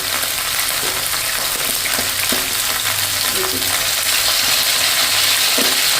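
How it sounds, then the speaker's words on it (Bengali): Cauliflower florets fry in hot oil with turmeric and salt, giving a steady, loud sizzle throughout, with intermittent scrapes and clinks as the pieces are turned and stirred in the pan. "ফুলকপিগুলোকে এইভাবে নেড়ে চেড়ে একটু ভালো করে ভেজে নেব"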